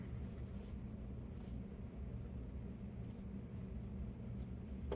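Scissors trim through fabric with a few faint, brief snips spaced irregularly over a low steady room hum, near and quiet, with no talking.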